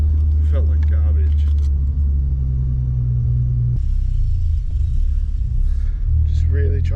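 A Holden ute engine driving with the clutch ridden, giving a steady, loud low rumble and drone that shifts pitch midway, with someone talking over it at times.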